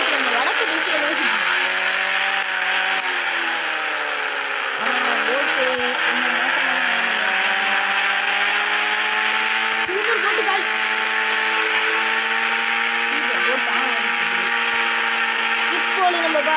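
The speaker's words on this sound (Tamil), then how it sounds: "இப்போது நம்ம பார்த்தீங்கன்னா நம்ம இந்த போட்டை எடுத்துக்கிட்டு பயங்கர ஸ்பீடாக போயிட்டு இருக்கோம்" A speedboat races across water in a Jurassic-world driving video game, its engine a loud, constant high-revving drone that dips and climbs in pitch as it accelerates, running unbroken for the whole stretch.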